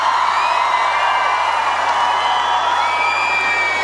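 A large outdoor festival crowd at a live concert in Vienna cheers and whoops in a steady, dense roar. The sound is loud and continuous and stays the same throughout.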